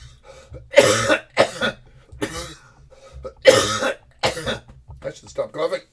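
A person coughing repeatedly at close range, several sharp bursts in a row with short gaps and some quieter throat sounds between.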